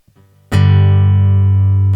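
An inverted power chord strummed once on electric guitar after a faint pick noise, ringing out loud and sustained with a rich, buzzy tone that barely decays over a second and a half.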